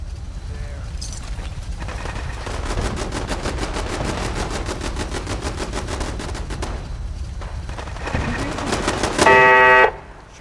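Rapid automatic gunfire from a turret in Fallout 4 rattles in a dense, steady burst for most of the clip, ending in a loud sharp surge near the end, with game effects layered underneath.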